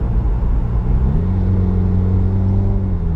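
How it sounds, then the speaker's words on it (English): A 2016 Subaru WRX fitted with a Nameless Performance midpipe runs steadily close up, with a low engine rumble and a turbo whir whose pitch steps up partway through, then holds level. "you do hear more of the turbo noise, which is what I really like"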